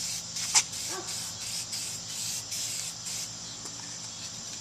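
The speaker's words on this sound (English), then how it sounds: "So take this, spray it right on." Continuous hiss of an aerosol spray paint can held close, spraying smoke-colored paint onto a boat's lower unit, steady and loud for several seconds with slight pulses.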